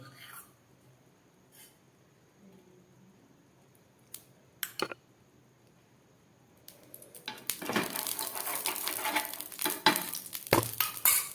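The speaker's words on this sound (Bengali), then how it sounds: "চলুন এর মধ্যে আমি দিয়ে দিচ্ছি একটু সাদা তেল।" White oil heated and stirred in a frying pan for sabudana dosa: quiet handling clicks and taps at first, then loud, close sizzling and scraping that fills the second half, with a soft voice.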